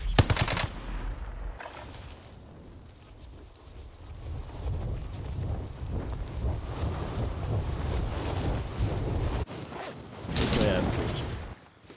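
BAR rifle fire in the Warzone video game, heard as dense bursts of gunshots over a rumbling, wind-like game background, with a speaking voice partly over the shooting.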